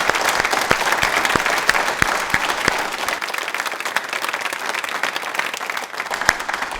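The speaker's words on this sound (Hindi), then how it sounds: "एक बार योग के लिए तालियां एक बार हो जाए पहले" Sustained audience applause in a Hindi yoga talk-show studio, for yoga itself: dense, steady clapping from a seated crowd throughout, fairly loud and even, with no voices above it.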